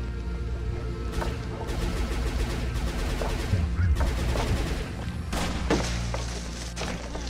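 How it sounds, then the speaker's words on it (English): Gunfire in a video game, heard as rapid bursts of shots over a dense rumbling background that continue from start to end. "Stop shooting at me!"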